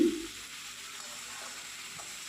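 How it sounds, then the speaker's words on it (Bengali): Potatoes and eggplant are turned with salt in a cooking pan, making a faint, steady sizzling hiss with a brief scrape at the start. "উল্টিয়ে পাল্টিয়ে আমরা সমস্ত আলু বেগুনটায় মাখিয়ে দেবো"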